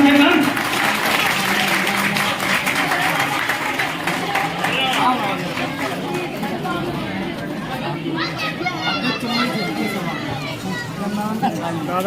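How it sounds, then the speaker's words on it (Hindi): Crowd clapping at an outdoor Gahoi Diwas community festival with a procession, loud continuous applause mixed with chatter and children's voices throughout. "तालियां बजाइए आप कम से कम।"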